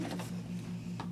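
A sewing machine runs a straight stitch through a stamped paper greeting card decorated with a yellow butterfly, giving a steady close motor hum with light rapid needle clatter.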